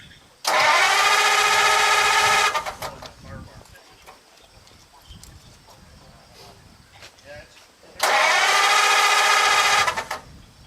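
Starter cranking the engine of a Flakpanzer tank under restoration: two loud, sustained grinding bursts of about two seconds each, separated by a quieter gap with people talking nearby.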